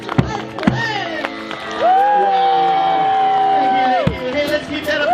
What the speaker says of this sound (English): Can I get a big round of applause for the man behind the Mousetrap, Mr. Mark Perez?